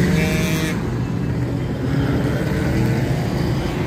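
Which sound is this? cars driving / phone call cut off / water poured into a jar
cars driving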